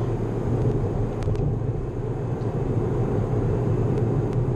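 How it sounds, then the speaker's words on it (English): An Alpine A110 accelerates hard to overtake, its interior filled with a steady broadband engine rumble and turbo rush that holds a constant roar throughout, with a couple of faint high whistles. "It's lots of turbo noise."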